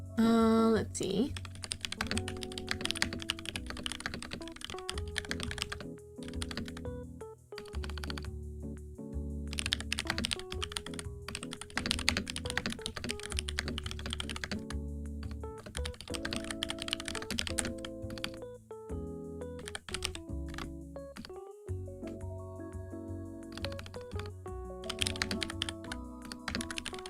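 Mechanical keyboard fitted with yellow switches and separately bought keycaps, typed on in fast irregular bursts of clacky keystrokes with brief pauses, close and clear, with a voice talking faintly over parts of it.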